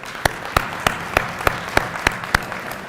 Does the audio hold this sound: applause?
yes